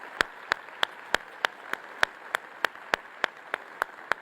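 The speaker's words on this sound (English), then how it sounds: "Let's give a big applause for her." Audience applause in a hall for a guest asked to stand, heard as a steady patter of clapping with sharp regular peaks, moderately close and without talk.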